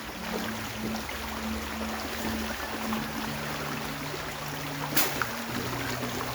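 Irrigation water running in a small stream that feeds a rice paddy, a steady broadband rushing trickle close by with a faint low hum and a brief click near the end.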